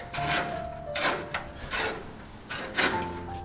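Pliers bend and squeeze a metal edge during spring garden work, making repeated rasping, scraping strokes at close range, several in a row with short pauses between.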